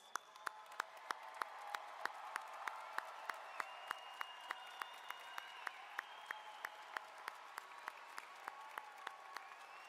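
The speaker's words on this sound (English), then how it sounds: "give them a round of applause" Audience at a high school graduation ceremony in an arena applauding, a steady wash of many hands clapping from a distance with a rhythmic beat of louder unison claps running through it.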